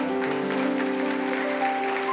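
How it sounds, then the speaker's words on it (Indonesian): Church congregation clapping in praise during a sermon, a short steady patter of hands with faint tonal hum underneath. "Yang percaya berikan tepuk tangan untuk Tuhan"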